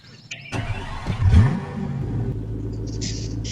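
A car engine in the Roblox game Life Together starts up and settles into a steady low rumble, with a brief rev early on and faint game sounds in the background.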